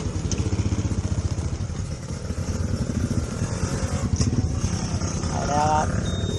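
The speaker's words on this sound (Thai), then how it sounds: "เดี๋ยวไปฟังเสียงของคาชิว่าดูนะ" A Cagiva Stella 115 motorcycle engine runs steadily nearby with a rapid, throbbing two-stroke pulse and slight rises in revs, with voices talking over it at times.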